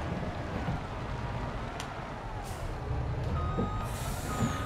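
A semi truck reversing in Farming Simulator 22, with engine rumble under faint wind noise and a hiss like an air brake; any reversing beeps are soft and hard to pick out; no talking.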